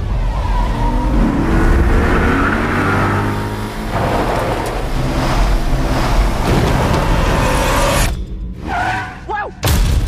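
A car revs and roars off at speed, its engine loud and close with thumps and rumbling, then cuts into sudden near-silence before a final heavy boom, with a brief voice mixed in.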